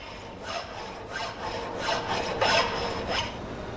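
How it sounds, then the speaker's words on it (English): A coarse-grade file rasping across a piece of mild steel in an automotive workshop, with steady repeated strokes forming a continuous gritty scraping, close and fairly loud. "Filing this piece of mild steel removes a lot of material with each stroke."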